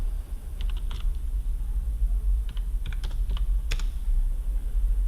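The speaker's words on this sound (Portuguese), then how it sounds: "vamos digitar a senha aqui" A password being typed on a computer keyboard: scattered light keystroke clicks in short clusters over a steady low hum, with no voices.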